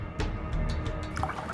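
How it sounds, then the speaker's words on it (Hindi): Water from a bottle poured into a drink, a few short splashy drips and trickles close by, with a brief gurgling fill toward the end. "इसमें मैं थोड़ा पानी मिला देता हूँ"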